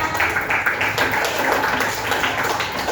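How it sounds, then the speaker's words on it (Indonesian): Schoolchildren in a classroom clap for a group's correct answer during a peer-teaching lesson, a brisk, uneven run of claps and taps filling the short stretch. "Betul, kasih tepuk tangan."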